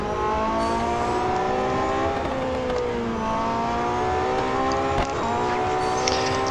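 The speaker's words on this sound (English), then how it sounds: "Oh, I love the sound of this car." In Real Racing 3, a Porsche race car engine screams at high revs with a continuous tonal whine, pitch dipping and climbing through gear changes and corners, loud and constant throughout.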